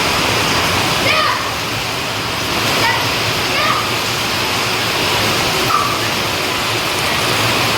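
Heavy village storm rain keeps up a steady loud rush, while a few short human voices break in over it now and then.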